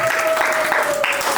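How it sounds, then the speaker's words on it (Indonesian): Students at SMP Negeri 2 Sentani give classmate Chelsea a round of applause in class, a short, close, continuous patter of clapping mixed with voices and a faint steady tone. "tepuk tangan untuk Chelsea dulu"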